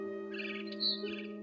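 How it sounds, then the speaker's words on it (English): A barn swallow chirps outside a window, a few short high calls clustered in a faint, brief burst over a steady low background hum. "Then I heard chirping outside my window. It was a barn swallow going back to her nest."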